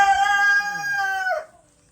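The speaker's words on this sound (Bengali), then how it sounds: "এখানে সাধারণ মুরগি।" A rooster crows once in a resort coop, loud and close. The single drawn-out crow lasts about a second and a half, then cuts off into quiet.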